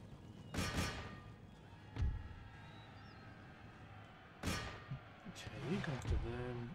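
Provincial cavalry horses in Empire Total War, whinnying and neighing in several bursts with hooves thudding, set against a steady din of battle.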